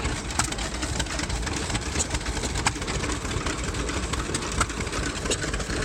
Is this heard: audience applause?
no